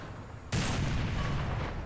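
A loud, sharp tank cannon shot in War Thunder bursts in abruptly after a quiet moment and trails off into a long, heavy roar, with no talking.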